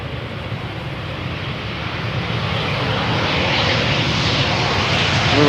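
An Airbus A380 landing on the Polderbaan runway at Schiphol, its engines a loud, broad, steady roar that swells gradually as the jet comes closer, heard alone without talk.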